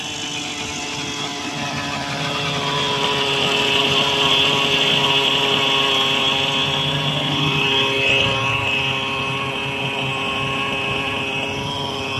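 The engine of a Hirobo Lama RC helicopter that is running unstably buzzes loudly and continuously at close range with a high whine, its pitch wavering slightly over about twelve seconds.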